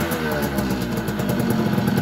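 A Yamaha FS1E two-stroke moped engine runs up close and loud, with a buzzy, rapidly pulsing rasp that rises slightly as it is given a little throttle.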